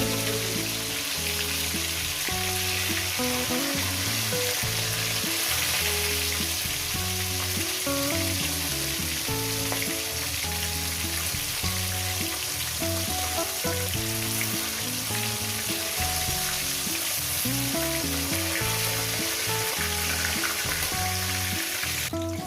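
Bhola fish frying in oil in a pan for a spicy curry with taro; a dense, continuous sizzle and crackle at close range, steady and loud throughout with no talking.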